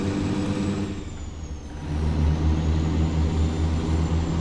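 A Cat 3406C diesel truck engine in a Peterbilt 359 in American Truck Simulator drones steadily at low pitch, rising slightly in loudness midway as it pulls and builds speed, with faint traffic noise around it.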